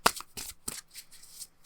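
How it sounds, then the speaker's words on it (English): Tarot cards being shuffled by hand, several quick riffling bursts of papery flutter close up, separated by brief pauses. "I forget that I want to shuffle on camera a little bit better"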